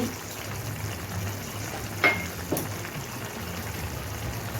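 Paneer gravy simmering in a pan as spices are stirred in, a soft continuous bubbling hiss with a couple of light scrapes of the spoon, close and without talk.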